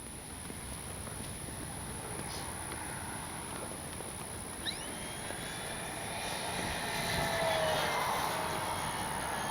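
An RC model FMS P-51 Miss America warbird flies overhead outdoors, a steady airy engine whine with faint passing tones that swells louder toward the end, with no talk.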